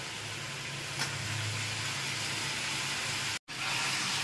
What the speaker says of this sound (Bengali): আমি নাড়া দিচ্ছি